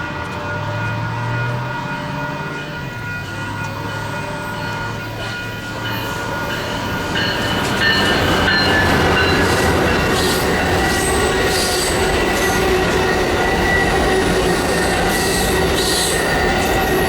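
Amtrak 564 rolls past on a single-track line along the California beach, a loud, close, continuous rumble of wheels and cars with shrill wheel squeal rising over the roar.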